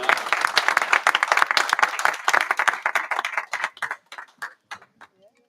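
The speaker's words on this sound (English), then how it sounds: "give Pauline a great round of applause" Audience applause at a European young chef award ceremony, a loud, dense burst of clapping that thins out into a few scattered claps before fading to quiet.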